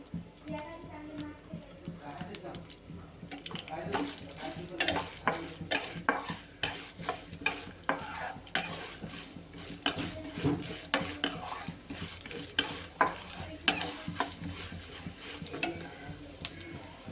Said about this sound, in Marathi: चण्याची डाळ घेतली आता आपल्याला हे भाजून घ्यायचं आहे म्हणजे एक पळी तेल घातलेलं आहे